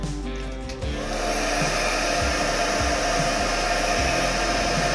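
A hair dryer starts up and blows loud and steady at close range over wet epoxy resin poured on a wood panel, a continuous whooshing whir with slight wavering as it moves.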